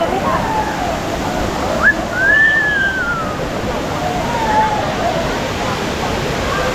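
Kempty Falls waterfall in Mussoorie on a foggy morning, heard as a steady, full broadband rush of falling water throughout, with a few faint whistle-like tones drifting over it.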